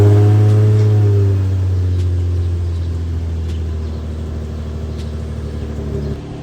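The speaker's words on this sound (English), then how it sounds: "I'll get the car started and let you guys hear the new intake." A car with a cheap aftermarket eBay intake, heard up close, settles after a start into a steady low idle. An early surge of rumble eases into an even drone that continues for about six seconds.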